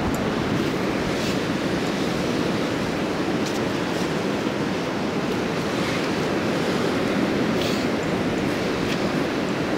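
Strong wind sweeps the Baltic shoreline at Stegna after a storm, a loud, unbroken roar of gusts and surf that blankets the whole scene without any voices.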